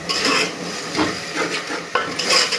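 A spoon stirs tomato curry with chili and salt in a pot, giving repeated scraping and clinking strokes in an uneven rhythm over a soft sizzle, close up with no talking.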